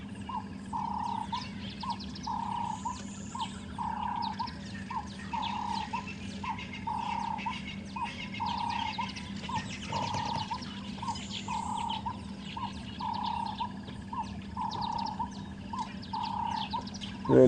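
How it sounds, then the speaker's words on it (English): Out in the wild at sunrise, birds mobbing a snake sound a repeated sharp alarm call at a steady pulse, roughly twice a second, over a low constant hum and faint background chirps. "Really is incredible how these birds, even though they could fall prey to the snake if he ambushed them, are now completely overwhelming him"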